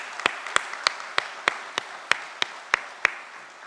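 Steady applause from a church congregation welcoming guests at a Thanksgiving Sunday service, with regular distinct claps standing out over a continuous bed of hand clapping, close and fairly loud.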